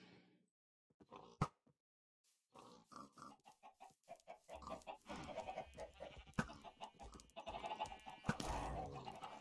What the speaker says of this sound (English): I'm killing a lot of sheep.